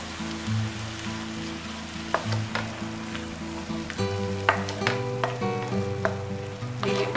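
Ground tomatoes hit hot spiced oil with a steady close sizzle and crackle, with bursts of louder spitting partway through and no voices.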